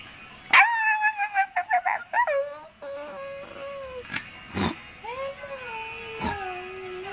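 Four-month-old shih tzu puppy giving a quick burst of high, yappy barks that trail into whining, howl-like whimpers with a few sharp yips, close and fairly loud.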